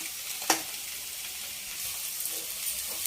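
Egg frying with green chillies in a pan, a steady soft sizzle running throughout with a brief louder crackle or stir near the start.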